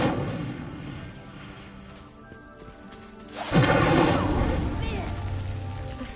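Incendio fire spell cast in Hogwarts Legacy: after a quieter stretch of game ambience, a sudden loud whooshing burst of flame erupts and roars on, with a voice speaking over the ambience.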